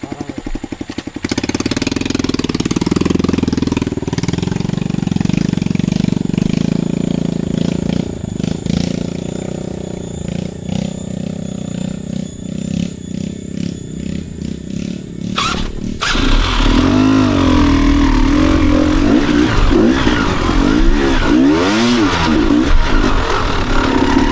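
A motorcycle engine runs steadily and loudly up close, with a shift in tone partway through as it revs and settles back to idle.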